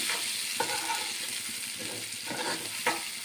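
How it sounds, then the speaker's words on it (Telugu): Mustard seeds, urad dal, a dried red chili and curry leaves sizzling as a tempering in hot oil, a steady close hiss with a few sharp pops and spatula clinks. "వేసి పోపు వేసుకున్నాను."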